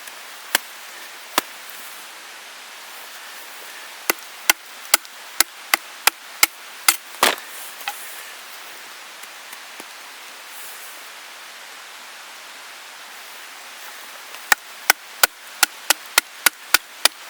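Cold Steel Bushman bowie knife batoning through wood, with sharp knocking strikes coming in a few separated bursts, the densest runs at the start and end, over a soft steady outdoor hiss.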